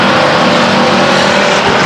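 Race cars charging into turn 1 at Stockton 99 Speedway, a loud, sustained engine roar with a droning tone, close and unbroken, with no talking.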